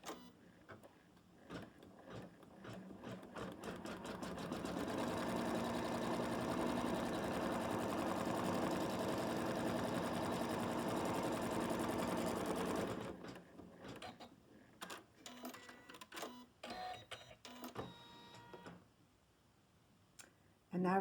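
An embroidery machine stitches the placement line for an appliqué on a teddy bear design, a steady rapid mechanical whirr running for several seconds, then breaking into short bursts and clicks before stopping.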